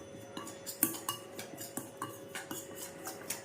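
A spoon stirs pointed gourd fritter batter with chilli powder in a bowl, producing a steady series of light clinks and scrapes against the bowl at close range.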